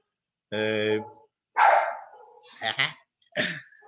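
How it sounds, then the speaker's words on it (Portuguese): A house dog barks close to the microphone during a home-taught chemistry lesson: a drawn-out howl-like bark, then several sharp, loud barks in quick succession with silent gaps between, and no talk over them. "não tem como fazer o cachorro ficar calado"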